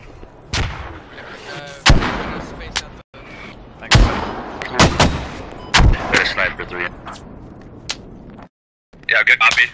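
Mortar shells exploding in the military shooter game Squad, a series of sharp, heavy booms at irregular intervals, some close and loud, with short gaps of quiet and voices talking between blasts.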